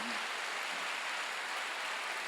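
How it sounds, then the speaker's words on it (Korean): A church congregation claps together during a Sunday worship service, producing a dense, steady wash of applause with no talk over it. "빨리 박수."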